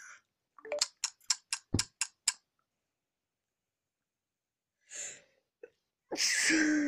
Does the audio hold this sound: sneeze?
yes